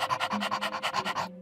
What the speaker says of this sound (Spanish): ¿Por qué los perros sacan la lengua al respirar?